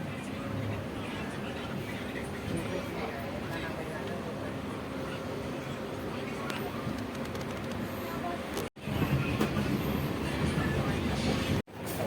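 Steady broadband rumble of a moving passenger train from inside the carriage on a solo trip in Hyderabad, continuous and loud with a couple of brief dropouts, people talking faintly beneath it.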